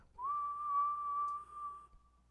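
A single sustained whistled note, blown close into a microphone during a live stream, holds steady and fairly loud for about two seconds before stopping abruptly.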